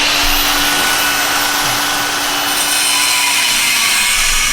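An angle grinder fitted with a cutoff wheel cuts steel bracing, giving a loud, steady high-pitched whine and hiss that fills the whole stretch without a break and with no talk.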